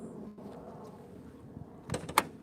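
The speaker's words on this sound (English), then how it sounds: "Let's pop the hood." Hood of a 2021 Lexus RC F with hood struts popping open: two sharp latch clicks close together near the end, over a low, steady background rumble.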